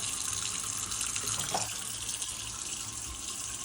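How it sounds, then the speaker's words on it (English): Steady rushing water streams out continuously, loud and close, draining from a mini foldable washing machine, with no voices. "The water's falling out."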